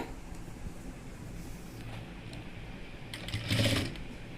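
A sewing machine stitches through folded cloth in steady, rapid mechanical chatter, close and moderately quiet, with a brief louder burst of stitching toward the end.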